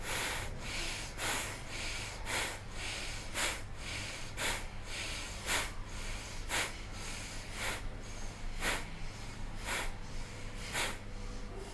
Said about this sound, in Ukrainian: Третій раз ми глибоко вдихаємо і дихаємо.